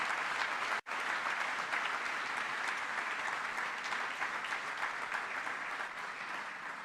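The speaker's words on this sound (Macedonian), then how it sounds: "еден аплауз за сите нив, за нивниот труд и квалитетот кој што го прават" A large crowd at an SDSM political rally in Kavadarci applauds the small family wineries with sustained, dense clapping, loud and even throughout, dropping out for an instant near the start.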